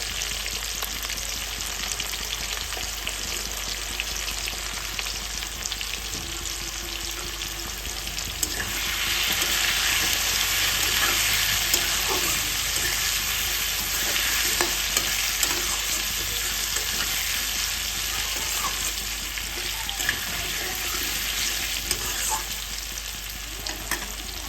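Potatoes and cauliflower fry with turmeric in a pan for a vegetarian cauliflower curry with lentil dumplings, giving a steady, close sizzle with stirring scrapes throughout that grows a little louder midway, and no talking.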